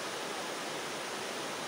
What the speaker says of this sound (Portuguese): Não chega a ser uma cascata alta e que cai de cima num peral pra baixo.